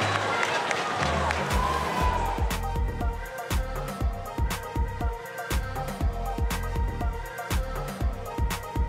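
A stadium crowd at a field hockey match applauds a goalkeeper's save, cheering that settles into rhythmic clapping, with a commentator talking over it.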